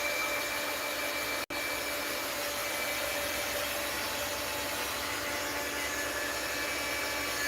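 A heat tool blowing hot air over craft work, a steady loud whooshing drone with a single sharp click early on, no voices.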